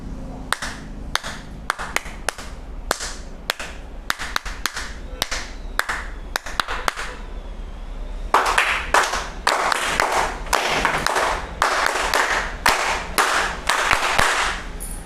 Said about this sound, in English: How will we clap?